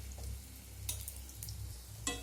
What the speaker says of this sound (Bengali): আমি এখানে বড়াগুলো ভাজার জন্য দিয়ে দিয়েছি।